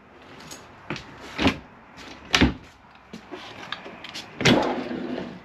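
Drawers in a 2022 Keystone Montana High Country fifth wheel RV being opened and closed, a series of sharp wooden slides and knocks in an uneven rhythm, several distinct bangs close by with quiet gaps.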